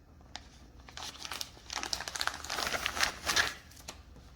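Plastic packaging for a sleep eye mask crinkles up close in a burst of irregular crackles, growing busier and louder midway before easing off.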